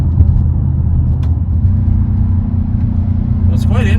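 A 2025 Mercedes-AMG GT63 S E Performance 4-door coupe accelerates with a deep, steady engine rumble heard from inside the cabin, loud and continuous, with a brief voice near the end.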